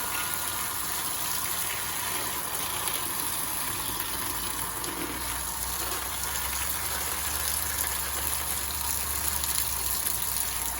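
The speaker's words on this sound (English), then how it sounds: "That's water all over plants." Water gushes steadily from a hose onto plants outdoors at a playground, a constant broad hiss with no pauses, close and fairly loud.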